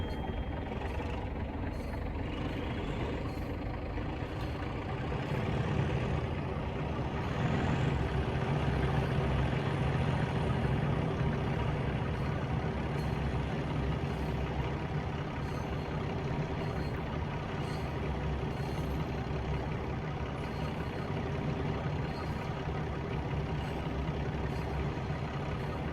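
A Class 37 diesel locomotive on a Leeds to Manchester trans-Pennine run in Train Simulator, a continuous heavy engine rumble that swells slightly as it throttles up, steady and close with no talking.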